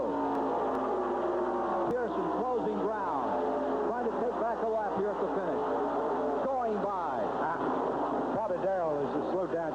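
NASCAR race car engines from the 1979 season, including the Wood Brothers car, whine and drone as cars pass with rising and falling pitch. A commentator talks over them throughout.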